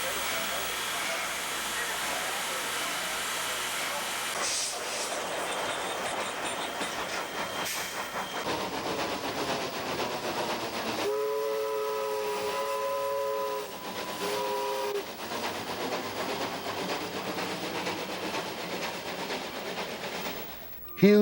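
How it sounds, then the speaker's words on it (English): A steam train runs along Minnesota's North Shore, its rumble and hiss held steady at a loud level while a drawn-out tonal whistle blows in the middle. "a real live steam-snorting choo-choo train, the sight and sound of which pushes my nostalgia button"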